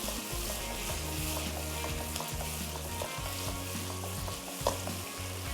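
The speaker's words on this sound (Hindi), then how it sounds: "अब हम करेंगे इसकी भुनाई।" Tomatoes and onions frying in oil for daal, a continuous close sizzle with occasional stirring scrapes and a low hum beneath, no talk.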